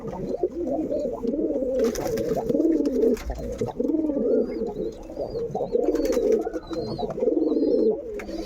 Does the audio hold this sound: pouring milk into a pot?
no